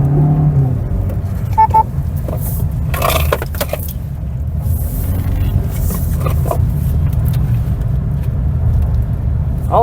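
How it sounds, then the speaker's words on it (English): A 2026 Suzuki Fronx SGX hybrid crossover on an autocross course gives a loud, continuous engine and road rumble with bursts of tyre and suspension noise and no talk. "let's end this video on a high note with a autocross test of this all-new"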